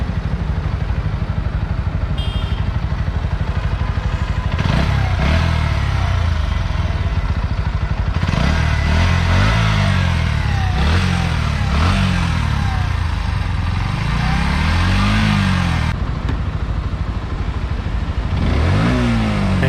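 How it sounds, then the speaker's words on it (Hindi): A Bajaj Pulsar NS125 motorcycle engine revs repeatedly, its exhaust note rising and falling in busy bursts, loud and close. "एग्जॉस्ट नोट भी इसका काफी बिजी लगा मुझे राइड करते वक्त, वो भी आपको सुना देता हूँ"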